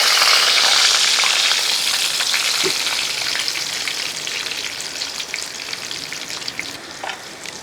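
Chicken pieces frying in a pan of hot oil for chicken mandi, a steady loud sizzle that fades slightly as the pieces are turned over, with occasional spatter pops.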